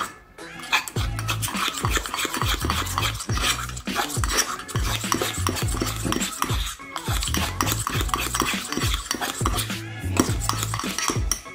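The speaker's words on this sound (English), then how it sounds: "Halo yung ingredients na nilagay mo" A spoon stirs cake ingredients for a Nutella mug cake in a cup, clinking and scraping in a steady, repeated rhythm that is close and loud, with no talking.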